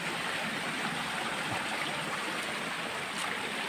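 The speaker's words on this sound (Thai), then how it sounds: "ถึงแล้วน้ำตก" Steady rushing roar of water at Huai Pa Phlu waterfall and its stream in Phrao, Chiang Mai, a loud, dense, unbroken flow heard up close with no voices.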